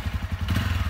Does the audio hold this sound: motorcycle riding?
yes